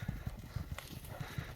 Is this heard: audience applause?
no